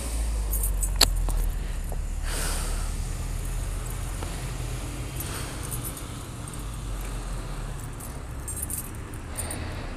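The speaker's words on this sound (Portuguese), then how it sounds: "Muitas chaves." Many keys jangle near a vehicle in a work setting, with a bright metallic rattle early on and light clinking over a steady low engine hum.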